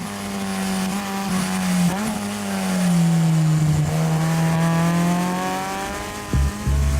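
A supercharged 2014 Subaru BRZ on a race track with Tomei headers, its engine droning steadily and close, pitch rising and falling through gear changes, with a brief tire squeal and a sharp shift blip near the end.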